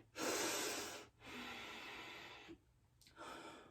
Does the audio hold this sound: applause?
no